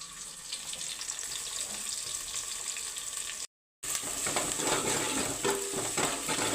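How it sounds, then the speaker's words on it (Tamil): Ginger garlic paste sizzling and frying in a pan while being stirred, a steady close hiss with scraping, briefly cut out mid-clip, with no talk. "இதையும் நல்லா மிக்ஸ் பண்ணிக்கணும். அதோட பச்சை வாசனை போகிற அளவுக்கு நல்லா மிக்ஸ் பண்ணணும்."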